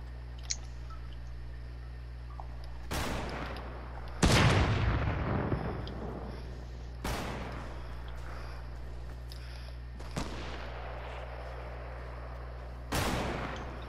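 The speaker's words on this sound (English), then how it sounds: "Getting sniped at." Sniper shots crack out in Fortnite at irregular intervals: five sharp, isolated reports, each ringing briefly before fading, over a steady low hum with no talking.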